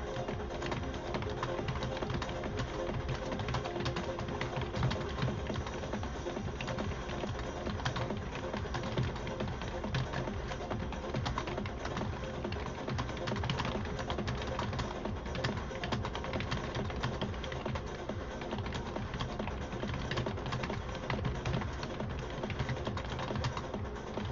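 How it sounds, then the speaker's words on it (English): Computer keyboard typing runs steadily for over twenty seconds, a quiet continuous clatter of keystrokes with a faint background hum and no talk. "I just got to type something to someone."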